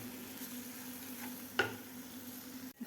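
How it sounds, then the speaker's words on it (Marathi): Coconut modak filling mixed with cream being sautéed in a pan, a faint sizzle with a single soft clink or scrape of stirring, quiet and close with no voices. "आता व्यवस्थित हे 1 मिनिटभर आपल्याला हे सारण परतून घ्यायचं आहे साय घातल्यानंतर"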